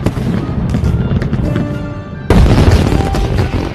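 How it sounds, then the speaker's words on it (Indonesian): Fireworks burst across a city at night in a scene from the film Hello Mr. Billionaire, a loud dense crackle and rumble that jumps to a heavier boom partway through, with no speech. "Wang Duo menyalakan seluruh kembang api di kota itu"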